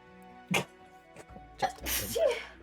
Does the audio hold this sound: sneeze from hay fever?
yes